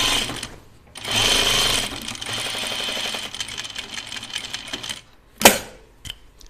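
A sewing machine stitches a dress in a fast, even whir that runs for about four seconds at close range, then stops, followed by a couple of sharp clicks and taps.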